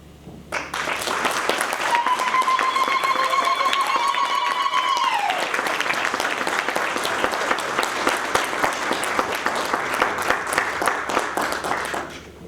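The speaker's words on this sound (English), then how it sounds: "a very warm round of applause" An audience at an inaugural university lecture bursts into a warm, sustained round of applause, dense and loud from start to finish, with a brief sustained whistle-like tone riding over the clapping early on.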